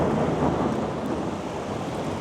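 Low, continuous thunder rumbles through a thunderstorm beside a ruined monastery, with rain and wind folded into a steady broadband roar that holds evenly throughout, no voices.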